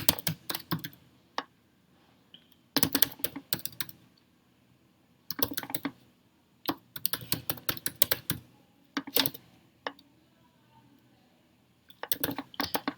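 Rapid clattering keystrokes on a computer keyboard come in bursts of a second or two, separated by short silences, close and clear with no speech.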